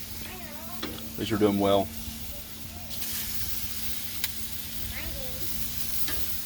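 Venison tenderloin, grilled from frozen, sears over the heat with a steady soft sizzle and hiss running throughout, while someone talks over it in short remarks.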